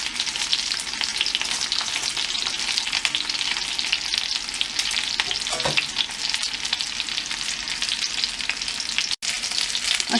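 Homemade chicken nuggets, seasoned with salt and garlic, frying in a pan with a steady, close sizzle and crackle that holds for the whole stretch, with no talking.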